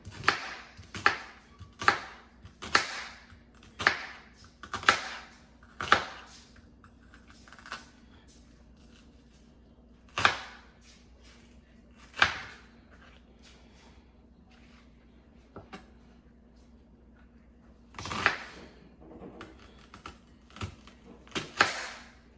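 A knife chops through an onion on a cutting board in a home kitchen, with about a dozen sharp, evenly spaced chops in the first half, then sparser cuts with short pauses, close and crisp, with no talking.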